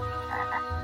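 A cartoon frog in an animated episode gives a couple of short, throaty croaks in quick succession, clear and close with no talking over them.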